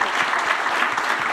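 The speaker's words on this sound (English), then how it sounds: "Another big applause." A conference audience applauding, dense steady clapping from many hands throughout the short stretch.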